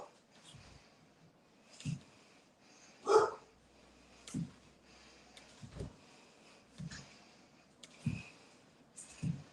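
A dog barks repeatedly at a passing snowplow on a snowy day, sharp moderately loud barks and snorts spaced about every second or two, with occasional faint talk in the background.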